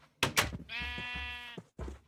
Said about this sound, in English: Breed up the sheep while I'm at it.